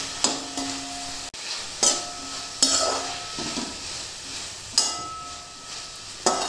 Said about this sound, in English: Let this cook in just the oil for a while.